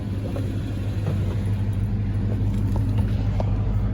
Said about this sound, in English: Purrs like a kitten, as all 350s do.